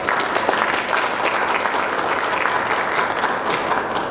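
An outdoor press conference audience on a cold day gives a sustained round of applause, dense steady clapping from a crowd close by, with no talking over it.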